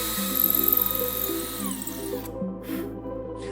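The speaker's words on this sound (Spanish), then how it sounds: "Hacemos estos 3 agujeros con una broca de 5 milímetros de diámetro." Power drill boring holes with a 5 mm bit for a homemade hydrogen generator, a loud close whine that drops in pitch mid-way, then cuts out before short bursts return.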